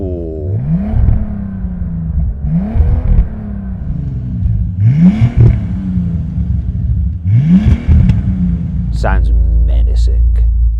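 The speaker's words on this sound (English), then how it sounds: "But does the old car's exhaust sound better as well?" An old car's engine and exhaust revving hard in four repeated bursts, each rising then falling, loud and close, with a steady idle rumble between and a few short clicks and squeaks at the end.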